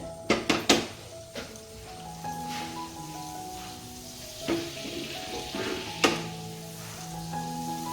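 Butter heating in a pan over a medium flame, with white oil added, for butter paneer gives a soft continuous sizzle. A few sharp knocks open the sequence, and background music plays throughout.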